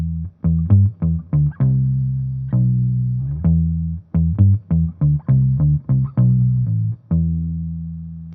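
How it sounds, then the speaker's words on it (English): An electric guitar plays through a whammy pedal set an octave down, giving deep bass-like tones. A close, loud, choppy riff of short plucked notes and a few sustained ones repeats in a rhythmic pattern, with no voices. "take your whammy pedal, bring it down an octave, and suddenly have some bass tones"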